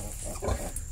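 Pigs grunting in a pigsty, a low rough grunt rising in the middle of a dense, noisy barnyard background, loud and close.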